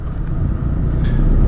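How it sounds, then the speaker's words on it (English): A Mazda FD RX7 rotary engine idles nearby, a low steady rumble with slight pulsing that swells a little toward the end, no one talking. "car's been idling for 10 minutes"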